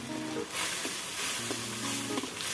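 Fresh glass noodles being stir-fried for a vegetarian pad thai, a dense, fairly loud sizzle with a few spatula scrapes against the pan, close up and without speech.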